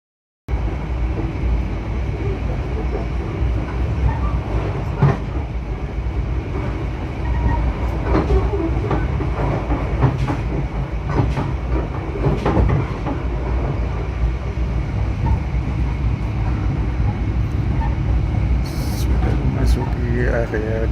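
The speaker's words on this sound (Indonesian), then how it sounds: "suasana di dalam kereta api Mutiara Timur" Inside the long-distance Mutiara Timur passenger train in motion, a steady rumble of wheels on rail with faint rhythmic clicks and carriage rattles fills the cabin throughout, with occasional soft voices in the background.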